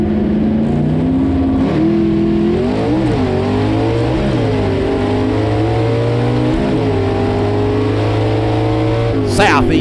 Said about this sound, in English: Southeast Gassers drag racing at its finest right there